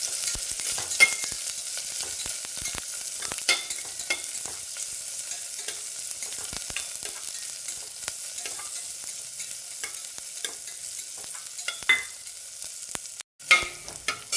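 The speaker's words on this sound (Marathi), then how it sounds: "कांदा आपला भाजत आला आहे" Chopped onion fries in a pan for masoor pulao, a steady soft sizzle punctuated by frequent stirring scrapes and taps, with a short gap before a final scrape.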